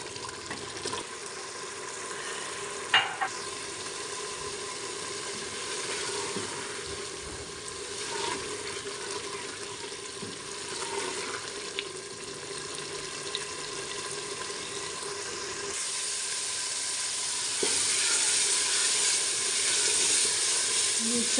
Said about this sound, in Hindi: चने की अच्छी तरह भुनाई हो रही है।